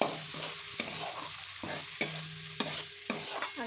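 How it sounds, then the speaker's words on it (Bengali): Flattened rice is stirred into fried vegetables in a pan, with a soft continuous sizzle broken by regular scraping strokes of a spatula, about one every half second, close and fairly quiet. "সবজিগুলো ভাজা ভাজা হয়ে গেছে। এবারে নিয়ে চিড়েগুলো দিয়ে দেবো।"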